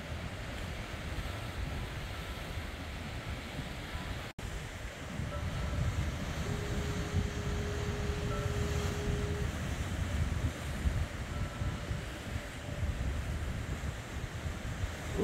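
Ocean swell washes steadily near a boat coming in to Noyo Bay, California, a continuous low roar of surf and wind across the microphone with a faint engine-like tone rising briefly midway.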